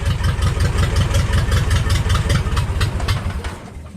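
A Ford Model A engine idles steadily after starting on a cold 40-degree day without choke, a rapid, even low chugging pulse with exhaust puffs that carries on throughout and eases slightly at the end, close by with no talk.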